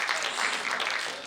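An audience claps at an anniversary public-speaking event, a brief steady burst of many hands, moderately loud with no talk over it.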